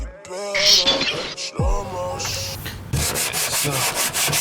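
Coarse 36-grit sandpaper strips a surface on an '09 Silverado stereo custom job, giving close, raspy rubbing strokes that turn into a faster, regular rhythm toward the end.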